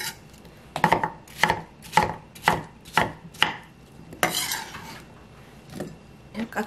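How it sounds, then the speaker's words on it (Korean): A knife chops Korean melon (chamoe) into small kkakdugi cubes on a cutting board, giving about eight sharp, evenly spaced close chops followed by a scraping sweep, with no talk. "깍두기 용은 깍두기 모양으로 썰어 놓으면 됩니다."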